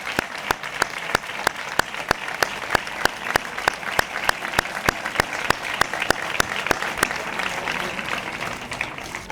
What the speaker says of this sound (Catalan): un més que merescut aplaudiment per a ells